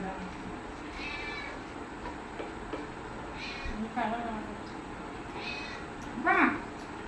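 A cat meows several times, faint and scattered at first, then one louder, clearer meow near the end, over a hissy background with people talking softly.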